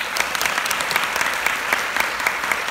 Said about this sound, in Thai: ปรบมือให้คนที่ให้โอกาสเรา